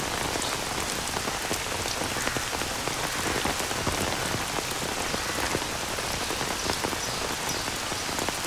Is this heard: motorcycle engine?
no